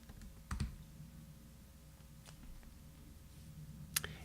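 A few scattered keystrokes on a computer keyboard, faint clicks with a soft low hum beneath and long quiet gaps between taps.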